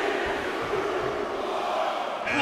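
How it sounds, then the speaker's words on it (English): A video-game arena crowd at a WWE 2K22 Royal Rumble wrestling match roars in a steady, dense wall of cheering, loud and sustained throughout. "Just listen to the crowd."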